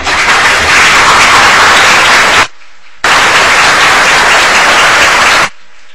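Loud, dense round of applause from people at a city council meeting, a steady roar of many hands clapping together that cuts off abruptly twice, with no talking.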